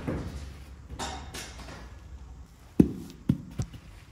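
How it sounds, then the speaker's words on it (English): A lime green BBCOR baseball bat strikes a ball with two or three sharp, fairly close cracks that stand out against low background rumble. "Green bat, lime green, sounds like this."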